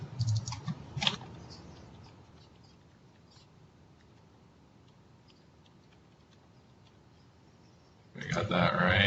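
Typing on a computer keyboard, with faint, sparse clicks through a quiet stretch. Louder bursts of activity come at the start and near the end.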